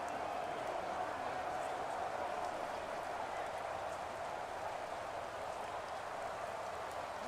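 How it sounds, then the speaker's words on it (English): Rain falls steadily during an NFL football game between the Pittsburgh Steelers and Baltimore Ravens in Madden NFL 24, a soft, even hiss with faint crowd noise beneath it. "here in the rain and the elements"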